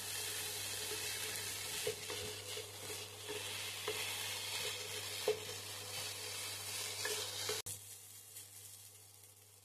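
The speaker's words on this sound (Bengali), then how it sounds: "ম্যাগিটাকেও ভালো করে আমি ভেজে নেব।" Maggi instant noodles fry and sizzle in a pan while being stirred, a steady close crackle with occasional scraping knocks, continuous and alone until it quietens near the end.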